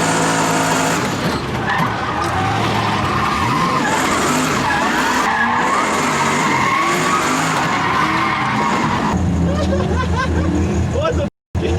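A car spinning drift donuts around a police car at a drift spot in Fort Stockton, Texas, with loud, continuous tire skidding and squealing over a revving engine, and crowd chatter in the background throughout.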